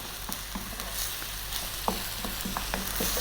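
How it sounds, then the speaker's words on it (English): Pieces of bony, fatty lamb frying in a pan for Ethiopian sega alicha wot, giving a steady low sizzle with a few scattered clicks and scrapes as the meat is moved, fairly quiet and without talk. "And then we're going to fry this around"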